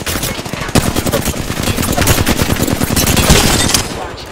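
Rapid automatic gunfire from the battle royale game Apex Legends, a loud, dense stream of shots with a brief pause near the start, continuing steadily for several seconds at close range.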